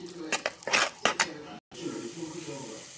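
A spoon scrapes and clinks against a cooking pot while fried onions are stirred, in several short close strokes with a brief silent gap, under a talking voice.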